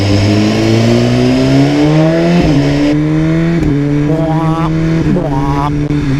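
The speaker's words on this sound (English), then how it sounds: "this quick shifter works so well going down" A 2015 BMW S1000RR sportbike drops down through its gears from sixth using the quick shifter and auto-blipper, the loud close engine note stepping down with several sharp throttle blips as revs jump at each shift.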